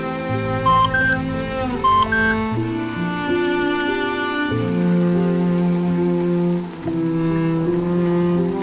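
A phone gives short bright message alert beeps, two quick chimes in the first few seconds, over sustained background music with no talking.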